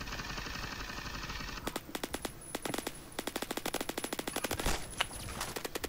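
Rapid bursts of M4 rifle fire in the Phantom Forces shooter game, a steady stream of sharp automatic shots after a brief quieter lead-in, with a few louder cracks near the end.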